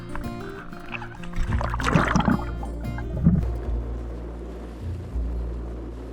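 A small boat motors along near Hog Cay in the Bahamas, low engine rumble with water sloshing and gurgling against the hull, swelling and easing over a few seconds.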